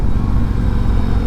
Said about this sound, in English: Engine braking is pretty nice.